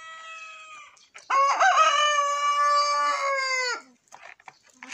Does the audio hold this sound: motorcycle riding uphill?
no